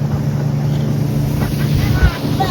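Speedboat passing close by on the backwater at Thanneermukkom Bund, a steady motor drone with wind buffeting and water wash, fairly loud and continuous.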